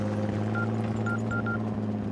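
A few short beeping tones from a phone being dialed, spaced unevenly over a steady low hum, in a Hindi-dubbed South Indian action movie.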